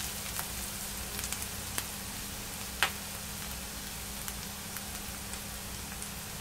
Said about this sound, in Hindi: इसको मैं हल्का सा सौथा करूंगी, लाइटली कुक करेंगे ये इसको